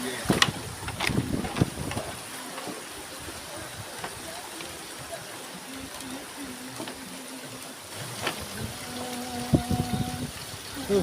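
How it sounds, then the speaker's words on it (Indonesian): Mountain water trickles steadily at the Camp Bravo campsite in Cidahu, Sukabumi, a continuous soft wash with occasional small splashes and faint background tones throughout. "Dan di sini airnya sih sahabat ya."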